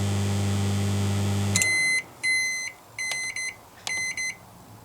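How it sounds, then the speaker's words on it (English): A microwave oven's steady running hum cuts off, then its high electronic beeps sound in several short repeated groups, close and loud, with no talking. "It's a bloody microwave, I tell you."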